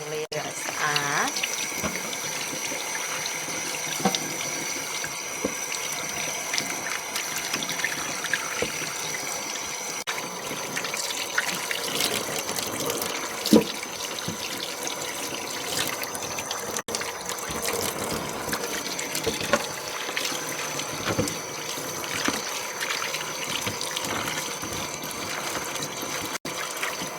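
Tap water running steadily into a sink while food is washed for beef pho, a continuous splashing trickle with scattered clinks, close by.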